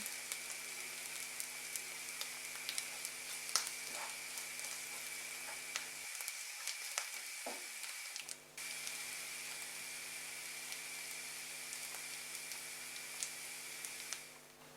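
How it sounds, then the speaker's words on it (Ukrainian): Enoki mushrooms with onion and breadcrumbs sizzle and crackle steadily in a hot pan, with occasional pops and brief clinks, continuing throughout without speech. "Добре все перемішуємо та обсмажуємо наші щопеньки 3-4 хвилини."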